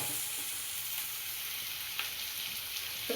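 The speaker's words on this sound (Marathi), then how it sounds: "आता हिला मस्त मी गोल्डन ब्राऊन होईपर्यंत छान कांदा असा परतून घेते" Sliced onion sizzles steadily in hot oil as it browns for a dried bombil (Bombay duck) chutney, a close, continuous hiss with a few small pops, no talking.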